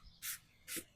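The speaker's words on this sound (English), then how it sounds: "Spray brake buster on one half" Brake Buster brake cleaner sprayed from an aerosol can, two short close hissing bursts separated by a brief pause.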